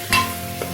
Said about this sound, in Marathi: हे मसाले मिक्स करून घ्यायचे।